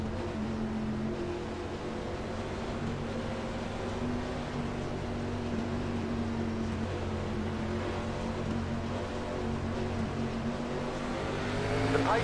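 Xfinity Series race cars roar at Chicagoland as the green flag drops in a racing video game, a dense, continuous engine drone with layered revving that builds slightly toward the end, with no talk over it.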